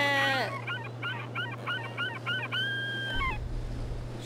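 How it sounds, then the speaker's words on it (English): Game birds in The Sims 3 Island Paradise call in a quick series of repeated honking, fowl-like cries, then one longer drawn-out call, with a steady low hum beneath and no talking. "Shut up, birds."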